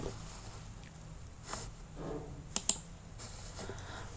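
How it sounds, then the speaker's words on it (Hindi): Keys on a computer keyboard are tapped sparsely while a number is entered, a few soft clicks and two sharper presses, faint against steady room hiss. "एक नंबर लिख रहे हैं, कीबोर्ड के थ्रू इंटर कर रहे हैं।"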